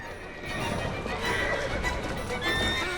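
A horse in the video game Assassin's Creed Syndicate whinnies loudly, its neigh accompanied by clip-clopping hooves and busy street-scene game noise.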